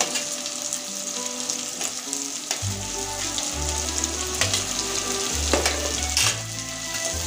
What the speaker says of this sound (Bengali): এবার এগুলো লাল করে ভেজে নেব।